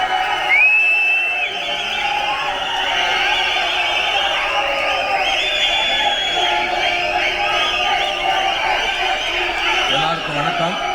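An audience at a Tamil film event claps and cheers to welcome actor Soori, who is called up as hero to speak; dense, steady crowd noise with whoops runs loud and continuous throughout.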